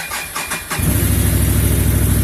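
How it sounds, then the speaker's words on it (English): A Can-Am Outlander 570 ATV fitted with a Gates carbon drive belt starts up and settles into a steady, loud, rhythmic idle with no belt squeal, close to the microphone and with no talk. "All you hear is the engine. You don't hear any squealing at idle."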